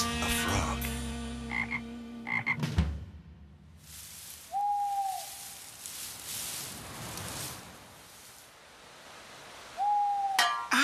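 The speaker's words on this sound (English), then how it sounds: "Now that's a frog." Cartoon frog croaking in a children's animated show, two short rising-then-level calls a few seconds apart over soft background music, fairly near and clear.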